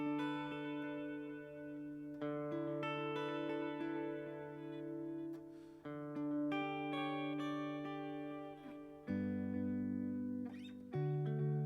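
An electric guitar plays sustained chords and notes through quarter-note and dotted-eighth delays together, so repeats pile up into a shimmering, echoing wash at moderate loudness.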